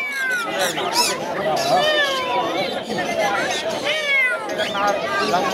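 An African grey parrot at the Mirpur bird market mimics a cat's meow with a string of rising and falling meowing calls over a busy crowd babble of voices.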